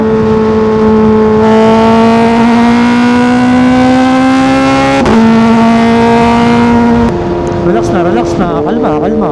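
A Kawasaki ZX4RR motorcycle with a full-system exhaust runs loud and close, holding a steady rev, then blipping the throttle so the engine note jumps and wavers.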